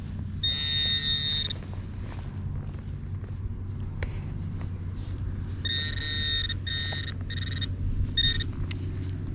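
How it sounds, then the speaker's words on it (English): A metal detector sweeping outdoors gives sharp, high electronic beeps in short clusters, including double beeps, over soft background rustle and handling noise. "Well, I got one double beep in here, which means it's shallow."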